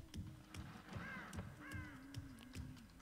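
Crows caw in the video game Dead by Daylight, a few harsh calls standing out over a steady rhythmic background of game ambience and music, fairly clear and close.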